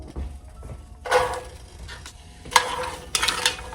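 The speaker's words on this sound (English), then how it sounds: "We're gonna give everything a stir, and you wanna saute this for about 5 minutes" Onions, celery and carrots sauté in heated olive oil while a spoon stirs them, giving bursts of sizzling and scraping that swell and fade, close by, with a low hum between bursts and no speech.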